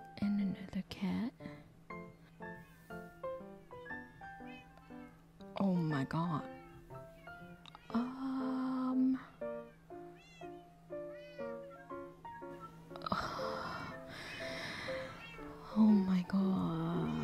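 Cats meow repeatedly in the Minecraft video game, several meows from more than one cat over a steady in-game background, while a person exclaims and talks over them.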